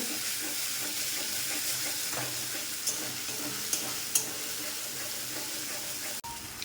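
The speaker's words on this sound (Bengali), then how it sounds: "এটাকে ভালো করে এবার আমি কষিয়ে নেব।" Ground spice paste being fried and stirred in a pan during Bengali home cooking, a steady close sizzle with soft scraping strokes and a few sharp clicks, with no talking.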